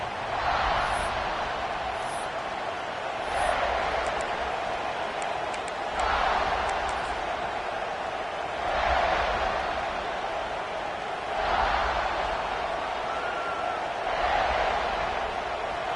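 Stadium crowd noise from a college football video game, a steady roar with swells every few seconds and a constant hum throughout.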